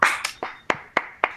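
After an academic colloquium talk, a handful of sharp, separate hand claps ring out close by at an uneven, unhurried pace, sounding more like one or two people than a full audience.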